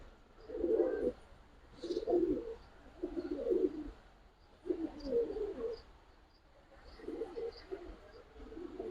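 Giribaz and coloured pigeons coo in repeated low, throaty bursts about once a second, close by, with faint higher chirps between them.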